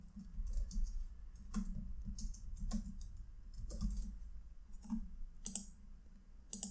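Clicky keys on a computer keyboard tapped in short, uneven bursts with brief gaps, fairly quiet and close, no one speaking.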